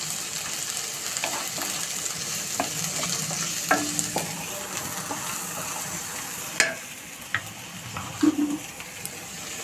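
Onions and garlic sizzle steadily in a pan with black cumin seeds, with scattered clicks and scrapes of stirring, close up and fairly quiet.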